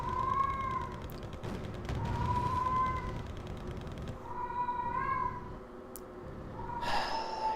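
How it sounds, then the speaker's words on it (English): Several cats meow in turn, four drawn-out, fairly loud cries spaced a second or two apart over a low background rumble, with no talk. "Cats."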